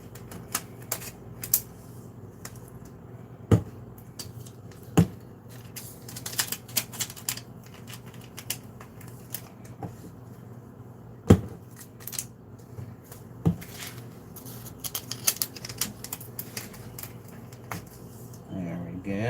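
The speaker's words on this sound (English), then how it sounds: "So, packaging ASMR." Packaging being handled close up, with crisp intermittent clicks, taps and rustles spaced irregularly over a quiet background hum, and occasional talking between the sounds.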